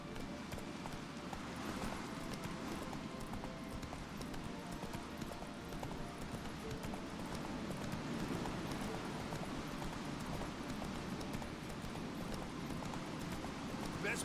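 Steady clip-clopping hooves of Roach, the horse in The Witcher 3, trotting continuously at an even pace over a constant wash of ambient wind and game noise, with a voice talking faintly at times.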